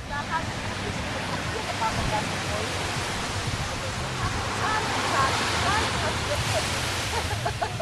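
Sea water and waves at Sosúa beach make a steady, loud wash of surf close by, with a person talking over it.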